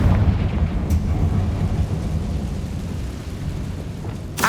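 A Confringo fire spell blast in Hogwarts Legacy: a loud, continuous rumbling roar, thunder-like and explosive, with sharp crackling bursts near the start and end.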